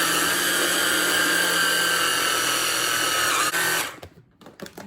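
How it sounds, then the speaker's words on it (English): A high-speed blender whirs loud and steady as it mixes peanut butter, banana, cocoa, honey, salt, baking soda and vanilla muffin batter, then cuts off and leaves a few faint clatters. "We're gonna mix it with blender for about 1 minute until smooth and creamy."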